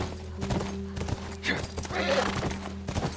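A horse in the video game The Last of Us Part I clip-clops along while neighing loudly, with brisk hoofbeats and a whinny over a low background drone.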